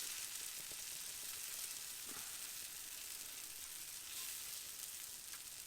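Batter sizzling and splattering in a cast iron pan at an off-grid camp, a steady loud hiss with faint crackles throughout.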